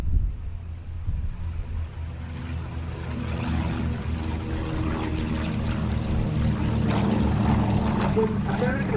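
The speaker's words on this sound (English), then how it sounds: "Now on the roll, the Douglas C-41a." A Douglas C-41a propeller aircraft takes off at the Duxford summer airshow, its engines droning steadily and building louder across the run, with some wind noise on the microphone.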